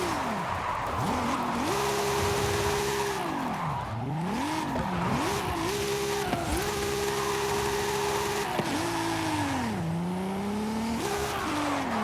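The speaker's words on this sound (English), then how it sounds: "this car definitely does drift better with traction control off" A car drifts in Forza Horizon 5 with traction control off, engine droning and revving up and down while tyres squeal in long sliding sweeps, loud and continuous with no talking.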